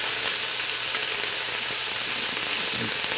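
Food sautéing in a hot pan while being stirred, a constant loud sizzle with faint scraping and clicking of the utensil against the pan throughout.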